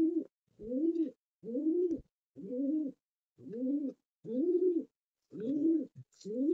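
Pigeons in a tournament pigeon loft, where one bird coos in about eight evenly spaced, rolling phrases, close and clear against a quiet background, with no talk.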